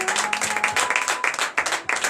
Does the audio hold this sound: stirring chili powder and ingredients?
no